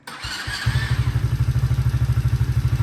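An Apollo Commander 125cc with an automatic clutch cranks with a few thuds, then catches and settles into a loud, close, steady idle with a rapid, even putter.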